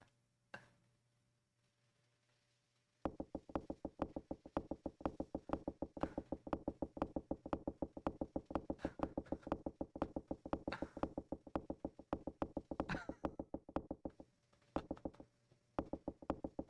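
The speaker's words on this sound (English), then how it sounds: "Yeah, some doors sound like farts," A door creaking open in the Clock Tower video game with a fart-like sound: a long, rapid sputtering buzz of tightly spaced pulses that runs steadily for about thirteen seconds after a faint lead-in.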